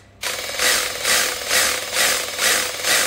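A Worx rotary hammer drill runs up from a standstill, its motor whining loud and close with a rhythmic surging hammer pulse that swells and eases about every half second.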